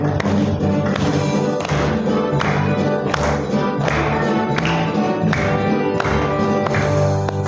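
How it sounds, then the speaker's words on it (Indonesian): Rhythmic hand clapping keeps a steady beat along with group singing in a children's classroom lesson, loud and close with regular sharp claps over the melody. "Sambil tepuk tangan."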